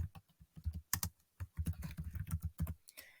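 Someone typing on a computer keyboard, quick irregular bursts of close, fairly quiet key clicks with short pauses between words.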